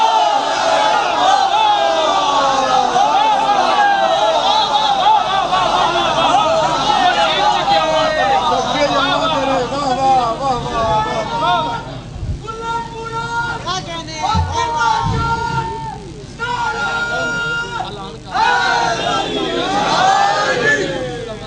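A large crowd at a Shia majlis gathering shouts rhythmic religious slogans together, a dense, loud roar of many voices rising and falling in waves throughout.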